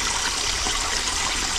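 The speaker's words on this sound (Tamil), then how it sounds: "இங்கே அழகா போகுது தண்ணி." Shallow stream water flowing steadily past, a continuous close rushing and trickling wash with no voices.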